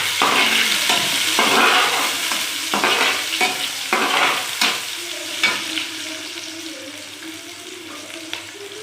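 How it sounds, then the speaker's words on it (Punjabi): Onions frying in a pan with asafoetida and cumin, a steady sizzle broken by repeated scraping stirs for the first few seconds, then settling into a softer continuous fry; no voices. "ਲਓ ਜੀ ਤੇ ਆਪਣੇ ਪਿਆਜ਼ ਹੋ ਰਹੇ ਨੇ ਬਸ ਹੋ ਚੱਲੇ ਨੇ"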